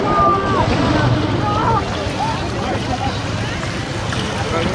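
Strong wind buffets the shore of Vatra Bill, a vast lake in Malda, as a continuous, loud broadband rush with faint voices and lapping water mixed in.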